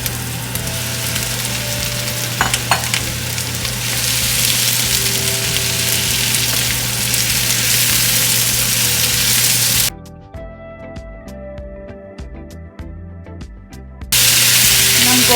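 Pork and onions fry in a pan, a steady crackling sizzle with scraping and knocking as the food is stirred; the sizzle drops briefly, then returns loudly.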